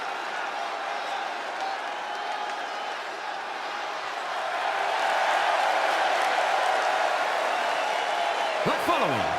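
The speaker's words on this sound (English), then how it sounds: "No surprise, this superstar is bringing the crowd to their feet." A crowd roars and cheers in a wrestling arena in WWE 2K26, a steady wash of noise that swells louder midway and holds there, with an announcer-style voice speaking over it.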